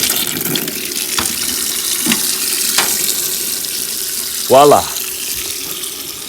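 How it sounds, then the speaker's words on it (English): Water runs loudly and steadily from an outdoor garden faucet as a continuous broad hiss, with a few faint knocks and a brief spoken word near the end. "Now let's turn on the faucet."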